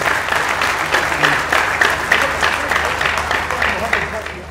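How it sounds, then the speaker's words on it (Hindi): An audience at a Hindi poetry gathering (kavi sammelan) applauds with steady, dense clapping that carries on for several seconds before fading slightly. "एक हमारे आदरणीय इकराम राजस्थानी साहब के लिए एक बार जोरदार तालियां"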